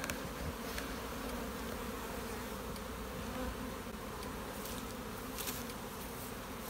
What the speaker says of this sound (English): The bees are staying down there, they're pretty much occupying 8 or 9 seams there.